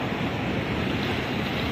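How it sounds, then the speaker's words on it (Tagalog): Strong ocean surf at Baler, a steady, loud roar of churning water blended with gusty wind noise and no voices. "Kaso, lakas na alon, no?"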